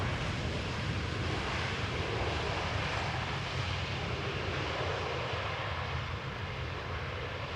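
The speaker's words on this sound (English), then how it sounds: "Next up, a 737 arriving from London Heathrow." A Boeing 737 arriving at Amsterdam Schiphol Airport: a steady, broad jet engine roar with rumble, constant and moderately loud throughout, with no voices.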